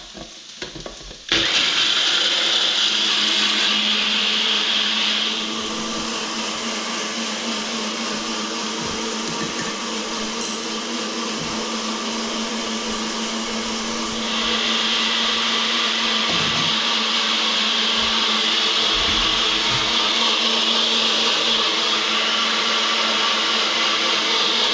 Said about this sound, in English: I've got a NutriBullet, which is good, so I can blend this up super easy.